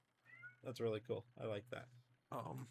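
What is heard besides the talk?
cat meowing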